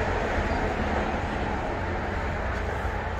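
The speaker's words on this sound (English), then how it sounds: "Sorry for the road noise, but we're next to the interstate." Steady broadband road noise from traffic on nearby Interstate 70, heard at a rest area in Fremont Indian State Park, Utah, forms a constant, fairly loud roar with no breaks and no voices.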